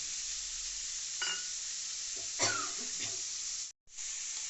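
Capsicum and small-cut beans sizzle in a hot pan as they are stirred, a moderate steady hiss with a few spatula scrapes and clinks, then a brief cutout.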